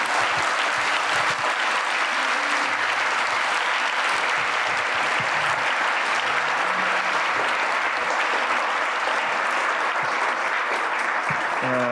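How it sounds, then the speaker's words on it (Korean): A church congregation applauds steadily and loudly throughout, a dense wash of many hands clapping with faint crowd murmur beneath. "격려와 사랑의 박수를 한번 해주세요."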